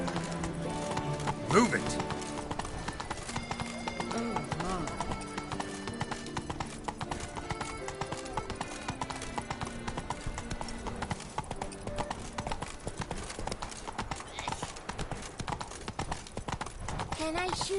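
Horse hooves clip-clop steadily at a riding pace in The Witcher 3 video game, with a brief whinny near the start and someone speaking over the hoofbeats.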